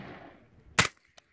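A single shot from an integrally suppressed 9mm carbine, a short muffled crack after a fading tail of earlier sound, followed by a faint metallic click.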